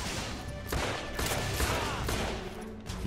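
Revolver fire in The Order: 1886, shots hitting a barrel, with several sharp broadband cracks at irregular intervals over a dense, loud game soundscape.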